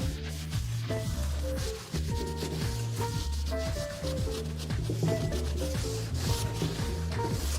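Transparent wax is rubbed onto a painted chair seat, making continuous scrubbing and rubbing strokes close up, with soft background music playing underneath.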